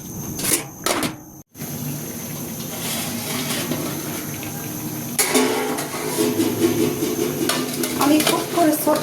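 Beef nahari masala with red chili powder and Kashmiri chili sizzles as it is sautéed in a pot, with repeated scraping stirs and clinks of a utensil against the pan, and one brief pause.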